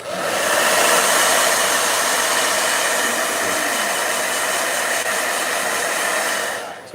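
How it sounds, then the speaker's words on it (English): A blow dryer runs steadily and loudly at close range for several seconds, drying paint on a journal page, with no talking over it. "Sorry, one more blow dryer."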